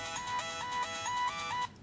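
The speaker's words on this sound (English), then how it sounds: "I now have an incoming call." An electronic cellphone ringtone for an incoming call repeats in short, bright pulses, four quick bursts, loud and close, cutting off at the end.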